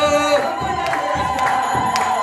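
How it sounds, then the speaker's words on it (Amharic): A church congregation ululating, with high trilling cries from many voices layered over one another, loud and sustained and joined by occasional sharper shouts. "እልል በሉ ቆሙ ለምስጋና እልል በሉ"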